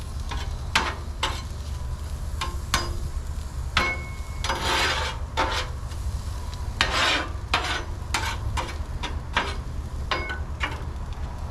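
Jalapenos and onions cook in olive oil on a grill, giving a low steady sizzle broken by repeated short scraping and stirring rasps, close and fairly quiet.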